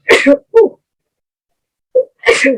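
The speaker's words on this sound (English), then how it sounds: "I'm gonna sneeze." A close, loud sneeze with a sharp burst, followed after a pause by a second explosive sneeze.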